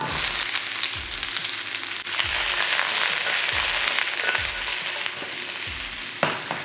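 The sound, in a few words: onions frying in a pan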